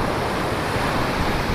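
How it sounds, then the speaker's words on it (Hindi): Steady, loud rush of sea surf at Mangalore beach, continuous breaking waves with wind noise across the whole stretch, no speech. "चलो पूरी बड़ी लहरें देख कैसी आ रही है।"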